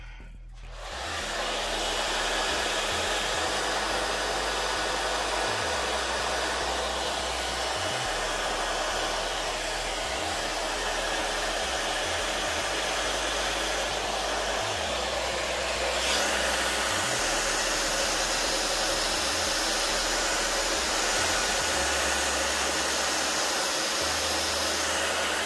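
A hair dryer blowing on wet acrylic paint to form cells in a pour painting, running as a loud, steady whoosh for the whole stretch with slight shifts in tone and no talking.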